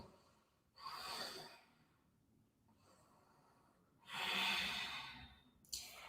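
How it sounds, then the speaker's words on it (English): A person takes slow, deep breaths during an isometric yoga hold, with two long, loud exhalations separated by a quieter breath and a short sharp intake at the end, close and without speech. "Squeeze your belly. Breathe deeply."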